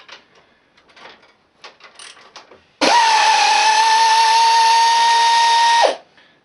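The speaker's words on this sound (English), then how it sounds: "Use them as a ratchet and then continue on into there." A ratchet spanner loosening bolts: faint scattered clicks, then a loud, steady, high ratcheting whir that runs for about three seconds and stops abruptly, with no talking.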